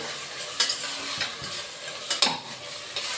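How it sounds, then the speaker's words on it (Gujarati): Chopped tomato stirred into Maggi rice in a frying pan, a few distinct scraping strokes of the spoon against the pan over a low background sizzle, close and moderately loud. "હવે એને હલાવી લઈશું."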